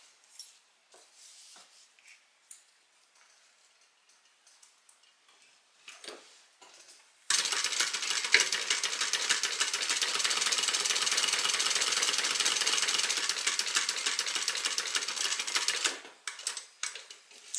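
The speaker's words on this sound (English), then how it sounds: "now we're going to stitch again 1/8 of an inch from the bottom" A sewing machine stitches a seam 1/8 inch from the bottom edge, running in a steady, rapid mechanical chatter for several seconds, close and loud, preceded and followed by scattered soft clicks of handling the fabric.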